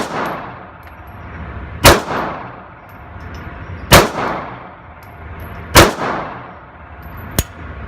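A Springfield Range Officer pistol fired at a range, four sharp, loud shots spaced about two seconds apart, each leaving a brief ringing tail, no talking.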